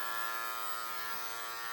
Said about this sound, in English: I'm going to hold my clipper upside down